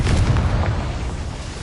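A Confringo fire spell explodes in Hogwarts Legacy, a single loud, close, deep boom that rumbles and fades over a second and a half.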